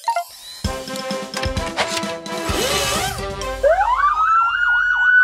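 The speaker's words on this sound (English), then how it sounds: "Now that's a loud nee-naw." A cartoon monster truck siren wails up and down in a rising, warbling pattern, loud and close, following a jumble of clunks and electronic tones.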